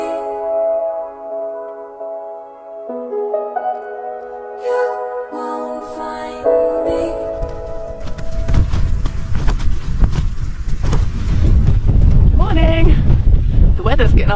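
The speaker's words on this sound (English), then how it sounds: "The wind's getting up, but the tent's doing fine with it so far." Wind picking up around a tent pitched for mountain camping: after a stretch of calm sustained tones, a loud rough gusting roar builds and buffets steadily close to the microphone through the second half.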